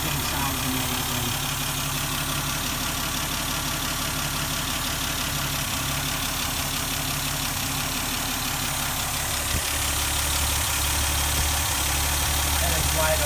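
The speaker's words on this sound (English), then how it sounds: "This engine sounds amazing." A 1971 Dodge Demon garage find idles in a steady, rumbling drone that holds at an even level throughout, close and loud, with faint voices underneath.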